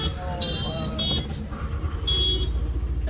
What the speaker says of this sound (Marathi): चला गाडी स्टार्ट करूयात आणि जाऊयात.